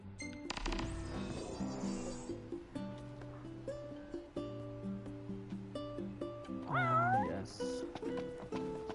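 A cat meows several times in the video game Final Fantasy XV, over game music, with short meows spread across the passage and a louder, drawn-out wail near the end.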